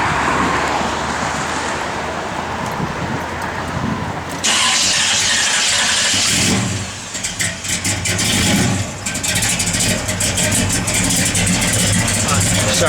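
A 1969 Chevrolet Chevelle SS starts partway through, its engine catching and settling into a loud, close idle, with voices talking over it outdoors.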